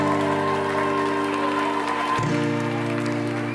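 Continuous audience applause at a school stage show with a performing group, a dense steady clatter of clapping that runs throughout over sustained musical tones.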